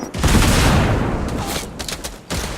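Dense gunfire rattles through a Fortnite match, loud and continuous for about two seconds before breaking into a few scattered shots.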